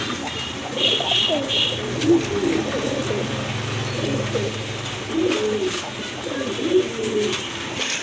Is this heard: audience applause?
no